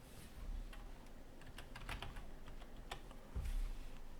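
Fingers type on a computer keyboard during CAD quantity-estimation work, a quiet, irregular patter of close key clicks with a couple of heavier presses.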